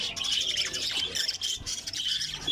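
Parakeets at an aviary nest box, including albino and green breeders, chirping and squawking in a dense, continuous stream of close calls.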